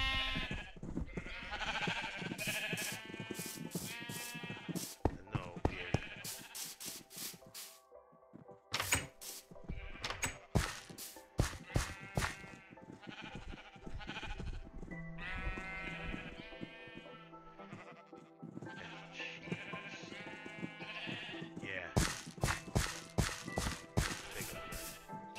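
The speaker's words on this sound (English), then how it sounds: "Look at all these sheep." Repeated bleating from a flock of multicolored Minecraft sheep, several overlapping calls close by with short gaps and clicking steps between them, no talking.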